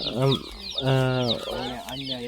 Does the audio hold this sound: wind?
no